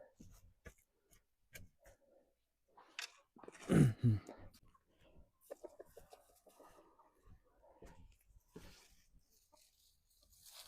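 Hens on a garden plot give one loud burst of clucking mid-clip, with quieter scattered clucks and outdoor rustling before and after.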